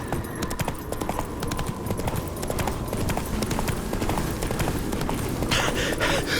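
Roach the horse gallops in The Witcher 3 video game, a close, rapid and rhythmic drumming of hooves that runs continuously over a low ambient bed.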